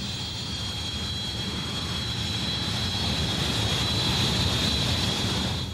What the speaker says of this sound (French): le prototype décolle à partir de sites non préparés en plein désert